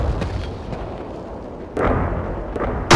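Heavy gunfire from a mounted gun in the World War II shooter Call of Duty Roads to Victory, with muffled booming blasts, a sharper burst near the middle and another sudden loud shot at the end.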